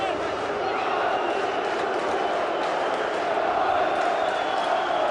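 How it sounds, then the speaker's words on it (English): Blackburn Rovers fans at a 2005 FA Cup fifth-round derby against Burnley fill the stadium with a dense, continuous crowd roar and applause, while a commentator speaks over it. "Over comes Robbie Savage to a great burst of applause by the Blackburn Rovers fans in that corner"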